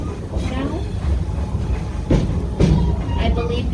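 Safari train rolling along rails, a continuous low rumble with periodic clickety-clack wheel thumps, heard from on board while someone talks over it.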